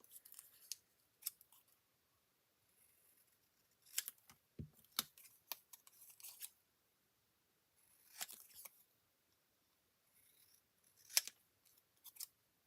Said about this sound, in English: let me trim those off